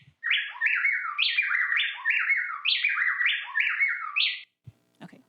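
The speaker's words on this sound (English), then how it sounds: "how many birds are singing? You probably think it sounds like one, but it's actually two in really quick alternation." Two birds sing in tight, rapid alternation, their quick descending chirped notes interlocking so closely they merge into one continuous, rhythmic song, clear and close with no other sound, then a few faint low clicks afterward.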